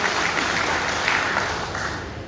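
Applause from an audience welcoming a speaker at a political party review meeting, steady dense clapping at close range with a faint ringing tone in the background.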